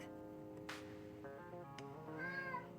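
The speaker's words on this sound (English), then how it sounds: "And we do have a cat. So he is currently meowing" A pet cat meows repeatedly indoors, with several drawn-out, rising and falling cries at close range over a steady low background hum.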